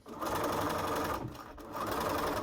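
A sewing machine stitches a fabric face mask along the nose piece with a quarter-inch seam, running in two loud, steady bursts with a brief slowdown between them.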